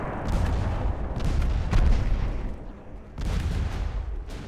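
Naval guns firing in the video game Ultimate Admiral: Dreadnoughts, with pre-dreadnought cruisers and a battleship exchanging fire. Repeated heavy booms roll into one another, a dense and loud barrage with a few sharper blasts standing out.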